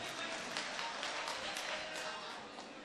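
Applause rises from the audience at an Urdu mushaira poetry gathering in Chandur Bazar, Amravati: a steady, fairly distant patter of many hands clapping that fades slightly at the end.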